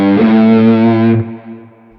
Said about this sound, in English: Or the obsessive drive going into the JTM,